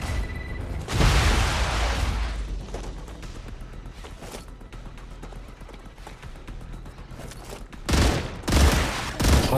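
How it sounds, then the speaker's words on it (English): A grenade blast and gunfire in the game Star Rupture: a heavy boom early on, then scattered shots and rumbling, with more loud bursts toward the end. "Grenade!"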